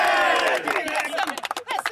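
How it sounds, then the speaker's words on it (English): A crowd at a footy club cheering loudly for beer, with many overlapping voices yelling and whooping together, then tapering off into scattered shouts and claps. "That's some fair cheering"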